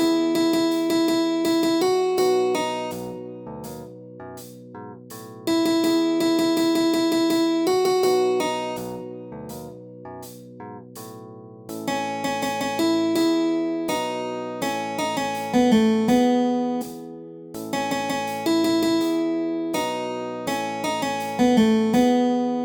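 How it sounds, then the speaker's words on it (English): Clean guitar picks out the verse melody of a song, single notes and short phrases ringing clearly over held chords, loud and close with no talking. "So the verse, the melody sounds something like this."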